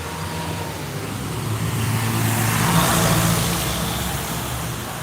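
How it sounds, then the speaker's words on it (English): Street traffic passing on a road in Medellín, Colombia: a steady broadband roadway rumble that swells as a vehicle nears and passes around the middle, then eases slightly, with no talking. "Traffic is coming."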